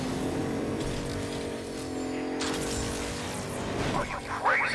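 A car engine revs and accelerates in the video game Agents of Mayhem, a loud rising and falling engine whine with a tire squeal near the end, while game voices talk over it.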